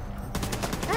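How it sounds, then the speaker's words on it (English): A flashbang grenade goes off in The Division 2 video game, a sudden sharp burst that breaks into a loud ringing wash lasting to the end, with gunfire-like crackle and a voice starting at the tail. "Hey, that was a flashbang."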